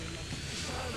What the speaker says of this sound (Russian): самолеты-истребители